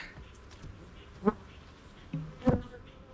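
Honeybees hum softly around a hive, with a couple of brief louder buzzes as bees pass close by.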